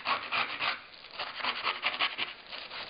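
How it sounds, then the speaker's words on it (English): Excess paste scraped off a sheet of deli wrap paper: a quick series of dry, rasping strokes, close and fairly loud, in an uneven rhythm with no voice. "you can scrape off this excess"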